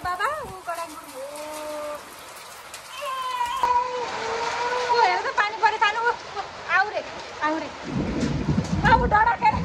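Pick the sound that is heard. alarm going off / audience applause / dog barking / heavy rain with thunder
heavy rain with thunder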